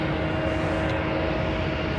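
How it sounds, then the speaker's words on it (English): Airliner jet engines spooling up at Heathrow Airport, a steady, loud, broad roar with a faint sustained tone running through it, heard from nearby and unbroken by voices. "Now listen to these engines spool up, man."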